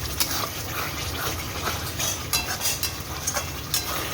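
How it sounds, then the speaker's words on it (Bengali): Chicken masala with onion paste, ginger and garlic paste sautés in ghee, a soft continuous sizzle punctuated by frequent scraping stirs and light utensil clinks. "পেঁয়াজ বাটা, আদা রসুন বাটা দিয়ে ঘি দিয়ে মশলা কষা চলছে"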